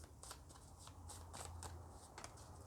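Small affirmation cards being handled and shuffled, a run of light papery flicks and riffles close to the microphone, soft and steady with no voices.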